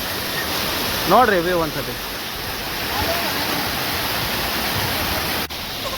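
Steady broadband roar of a hidden waterfall in Uttara Kannada fills the whole stretch, loud and close, with someone briefly speaking over it early on.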